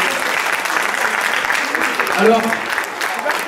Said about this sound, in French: on va les applaudir un peu pour les motiver